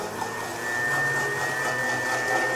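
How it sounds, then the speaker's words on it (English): A kitchen blender runs steadily, emulsifying a harvest salad dressing, with a constant whirring drone at moderate loudness and no talking. "So I'm going to turn the blender on and start to emulsify."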